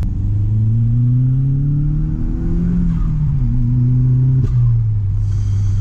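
An Audi S3 replica's 1.8T engine revs up loudly and climbs in pitch, dropping briefly between gear shifts before pulling again, a steady close-up mechanical drone.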